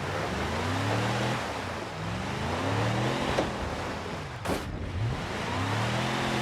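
Car driving over lava rock terrain in a video game, a steady engine drone with rising and falling revs and a continuous gritty rolling noise underneath.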